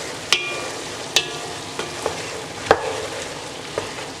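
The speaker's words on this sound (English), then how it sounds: "Mix that all in." Carrots and pasty filling being stirred in a pan, with a few separate scraping knocks of the spoon spaced irregularly over a soft, steady background hiss, close by and moderately quiet.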